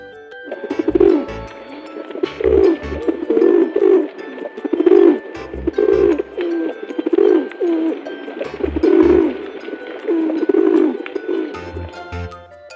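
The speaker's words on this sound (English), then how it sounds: "pigeon," A farm pigeon coos in soft, repeated throaty phrases close by, each rolling call separated by short pauses, with a faint steady hum underneath.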